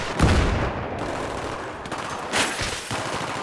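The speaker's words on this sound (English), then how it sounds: "Oh god, I'm getting shot" Bursts of gunfire in Battlefield 3, a loud opening volley followed by several further shots over about three seconds, close and dense with no talk over it.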